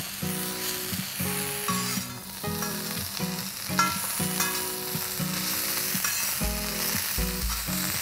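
Garlic and ginger paste frying in a pan gives a dense steady sizzle, loud and close throughout, with a humming tonal sound and a few scrapes mixed in, and no voices.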